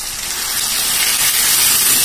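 Water poured into a hot pan of sautéed potatoes and meat, a loud close sizzling hiss and gush of steam that holds steady throughout, with no talk.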